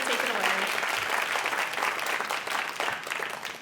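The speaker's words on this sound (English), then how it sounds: "So please give a round of applause to our panel" An audience at a Houston Ballet dance talk on John Neumeier's A Midsummer Night's Dream applauds the panel with steady, dense clapping that fills the room throughout, while a voice briefly speaks early on.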